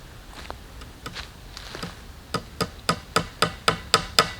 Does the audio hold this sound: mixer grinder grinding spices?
no